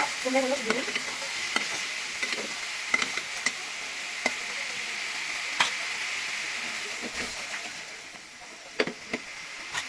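Ridge gourd curry cooking in a pan, a steady low sizzle of frying with scattered clinks and scrapes of stirring, close and continuous, with no talk.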